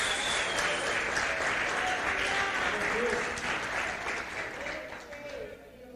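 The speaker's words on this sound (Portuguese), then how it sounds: "Aplauda mais forte" Church congregation clapping loudly during a Portuguese-language worship service, a dense, sustained roar of applause that holds strong for several seconds before tapering off near the end.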